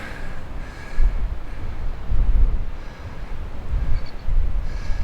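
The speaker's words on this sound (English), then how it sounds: "the trade winds are always coming in from the northeast, and that's the reason it's so windy" Strong northeast trade wind buffets the microphone at Kaʻena Point on Oʻahu's coast, a steady low rumbling roar that swells in several gusts and then eases, with no voices.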